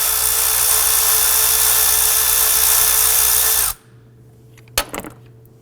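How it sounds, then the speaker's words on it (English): A power tool spins loudly and steadily while loosening an 8mm ignition coil bolt on a 2008-2011 Ford Focus 2.0L, then cuts off abruptly, followed by a brief metallic clatter. "So we're going to use our 8mm socket. Break that free and loosen it."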